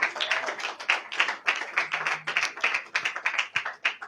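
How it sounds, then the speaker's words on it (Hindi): A church congregation breaks into applause during a service, a dense, even patter of many hands clapping at close to moderate distance, without voices over it. "आए खुदा उनके जलाल के लिए जोरदार तालियां बजाएं।"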